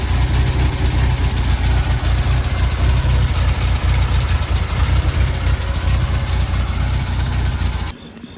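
Engine of an abandoned 1967 Volvo running rough as if starved of fuel, a loud steady low rumble with an uneven throb that cuts off abruptly near the end, no talking.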